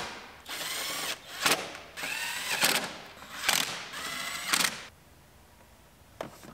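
Rapid ratcheting bursts while bolting a lower dash piece into a 2015 Toyota RAV4, four loud close runs of clicking each ending in a sharp tightening, then quiet.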